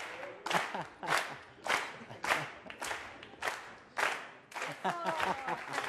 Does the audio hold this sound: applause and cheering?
yes